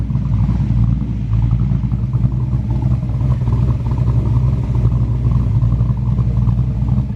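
A Ford Mustang SN95 engine with a performance camshaft runs loud and close with a choppy, lopey idle and raspy rumble, throttle blips swelling briefly, no talking over it.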